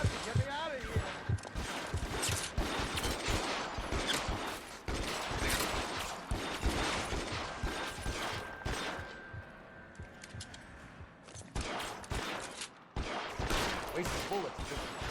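Video game gunfire rattling in dense bursts and volleys, steady and busy throughout at a moderate level, with someone talking over it.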